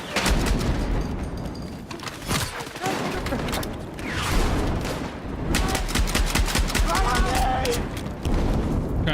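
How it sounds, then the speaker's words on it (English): Dense gunfire rattles almost nonstop through a firefight in the video game Gears, with bursts and heavy impacts layered under talking voices. "Taking fire."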